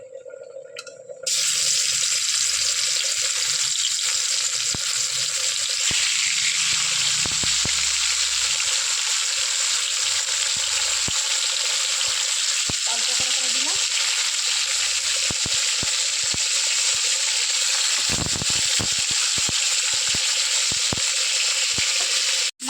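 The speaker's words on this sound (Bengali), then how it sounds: "তেলটা একটু গরম হোক ঠিক আছে মাছগুলো দিয়ে দেবো" Rupchanda pomfret fish frying in hot oil, a loud, dense, continuous sizzle starting after a brief quiet opening, with scattered clicks and a few clattering knocks of utensils along the way.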